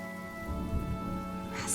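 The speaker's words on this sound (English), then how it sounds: "The rain will accompany you," Steady rain falls in the video game Honkai Star Rail, a constant hiss of drops over a low droning musical bed, soft and even throughout.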